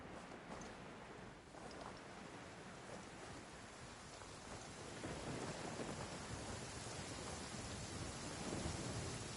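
Heavy rain pours steadily in a Genshin Impact game scene, with low rumbling thunder running beneath the dense, continuous hiss and swelling louder in the second half, with no talking.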